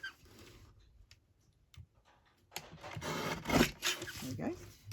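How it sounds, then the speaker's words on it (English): A paper trimmer slices off a thin strip of excess paper, a short scraping cut up close after a few faint handling taps, moderately loud. "now I just want to get my trimmer and trim off this little bit, just a tiny bit of excess here."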